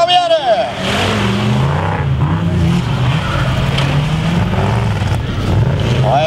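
Cars at a monster race on a track roar and whine past, engines revving hard with tyre squeal and skidding, loud and continuous through the whole stretch.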